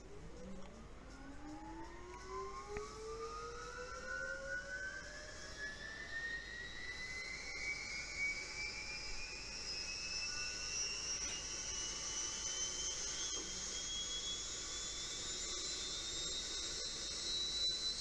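Light aircraft engine spinning up on the starter, a whine rising steadily in pitch over many seconds into a sustained high whir, heard from the cockpit without speech.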